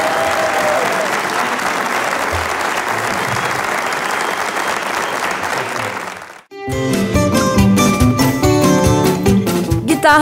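Loud, dense applause from a concert audience for a Portuguese guitar performer fills the first six seconds, then cuts off abruptly and gives way to plucked instrumental music.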